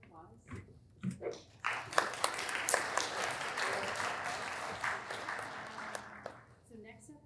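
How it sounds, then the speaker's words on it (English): Audience at a machine learning for health conference breaking into applause, building after a few scattered claps into a dense, sustained round that holds for several seconds before tapering off, with a voice briefly heard at the start and end. "let's have another round of applause"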